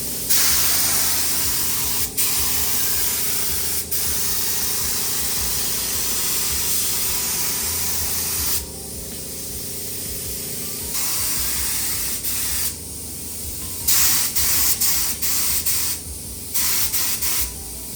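Spray paint being applied to a retro Vauxhall Cavalier during a full respray, a close continuous aerosol hiss broken by short gaps and several quick stop-start bursts toward the end.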